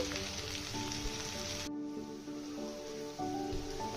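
Sliced okra (ladies finger) frying in hot oil makes a close, continuous crackling sizzle that drops to a softer bubbling partway through.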